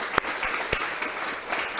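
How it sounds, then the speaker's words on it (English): Brief applause for a speaker at a talk, a fairly faint spread of clapping with a few sharper individual claps standing out over roughly two seconds. "Can we give her another round of applause?"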